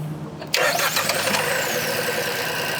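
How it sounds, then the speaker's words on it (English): A Proton S70's three-cylinder engine cranks and catches abruptly, close by, then settles into a steady, slightly uneven idle that continues to the end. "the thing about 3-cylinder engines is that because they are off balance"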